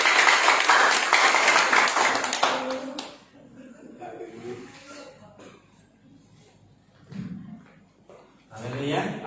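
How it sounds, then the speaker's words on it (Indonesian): Congregation clapping at a church seminar, a busy burst of hands for the first two and a half seconds, then softer scattered sounds and murmuring, with another swell of noise at the end. "Mari beri tepuk tangan yang bagus"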